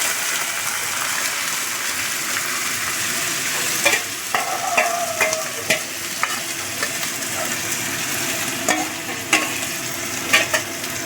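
Mutton pieces frying in ghee in a pan, a loud continuous sizzle that grows busier partway through, with scraping stirs and spatula knocks in the later seconds.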